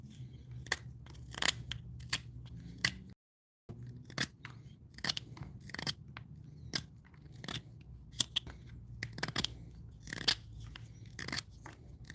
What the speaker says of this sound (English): That's how guys sharpen their pencils on the job site.